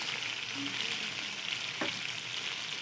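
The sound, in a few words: green chilies frying and being stirred in a pan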